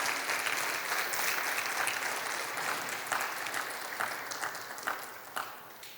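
Church congregation applauding steadily throughout, a dense wash of many hands clapping at even loudness with a few sharper individual claps near the end.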